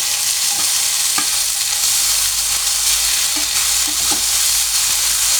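Chili, onion and coriander leaves stirred and frying in a hot pan with oil, a steady sizzle broken by soft scraping strokes at irregular intervals, close and fairly loud with no talking.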